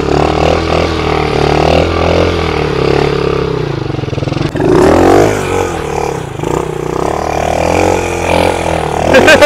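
Small pocket bike engine revving and rising in pitch, with a sharp clatter near the middle, loud and close throughout, used for wheelie stunts.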